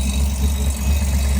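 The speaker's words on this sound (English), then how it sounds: "Listen to that big block Chevy." A 1966 Chevrolet Chevelle with a big-block Chevy V8, around 468 cubic inches, single-plane intake and MSD ignition, idles with a steady, loud, deep rumble throughout, no voices.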